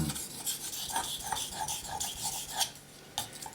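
A hunting knife is honed on an 800 grit sharpening stone, giving a steady rasping scrape in repeated strokes, close and fairly loud, with sharper scratches at intervals and no talk.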